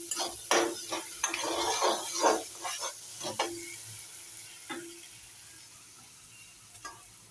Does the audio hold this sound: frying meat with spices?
yes